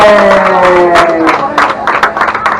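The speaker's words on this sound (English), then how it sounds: "Can we get a huge round of applause for Captain Ram for an excellent dive today?" Submarine passengers applaud the captain after surfacing from a dive aboard the Atlantis Submarine off Honolulu, Hawaii: a loud burst of clapping and cheering with a voice briefly at the start, and the claps becoming more scattered toward the end.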